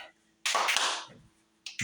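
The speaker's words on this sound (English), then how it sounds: "You're clapping on one side of the body and snapping on the other." A clap-and-snap fitness exercise: one sharp clap or snap, then a pause and two quick snaps close by, with no talking.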